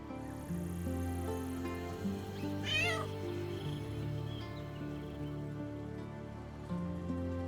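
A cat meows once in Baldur's Gate 3, a rising and falling call heard over a layered game music and ambient bed with soft tapping textures.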